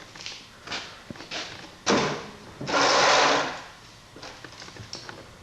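A welder tack welds a Ford Shoebox roof panel during a top chop, producing a series of short crackling bursts with a longer sizzling one midway, moderately loud and close with no voices.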